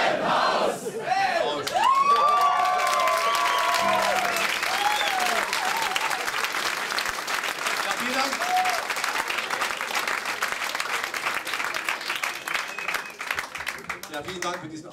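Audience applause and cheering fill a comedy show venue, a loud sustained wash of clapping from a large crowd with shouts mixed in, lasting throughout and slowly thinning toward the end.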